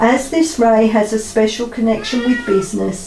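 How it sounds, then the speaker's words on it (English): A house cat meows and paws at a door, its repeated tonal cries running under steady close speech and hard to separate from the voice. "Excuse my cat meowing and pawing at the door."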